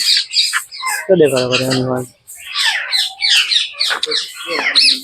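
Parrots in a zoo enclosure at Pradhyuman Park, Rajkot, give repeated sharp, high squawks and chirps close to the listener, with a short burst of voice in the middle.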